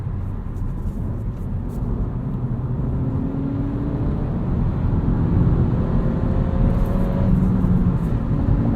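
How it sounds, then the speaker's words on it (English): A Honda Civic Si engine with a manual clutch winds down after the throttle is released, a steady low mechanical hum heard from inside the car with faint shifting tones as the revs fall. "As soon as I let off the gas, put the clutch pedal on, the revs are still dropping relatively quickly."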